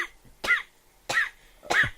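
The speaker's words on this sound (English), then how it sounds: "Don't cough into the microphone." Three separate coughs into a radio studio microphone, each a short harsh burst spaced about half a second apart, close and loud with quiet gaps between.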